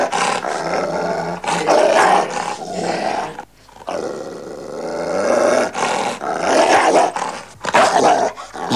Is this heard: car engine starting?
no